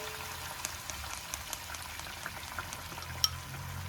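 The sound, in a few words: beaten eggs with pepper and salt frying in oil in a pan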